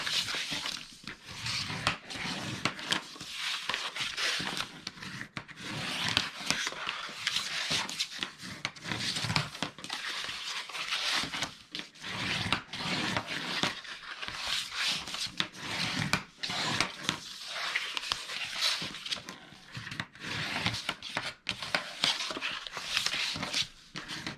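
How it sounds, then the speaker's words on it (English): Paper score lines on a nesting box are folded and burnished with steady rubbing and scraping strokes, close and continuous, with no talking. "So now we're going to fold and burnish all of our scores."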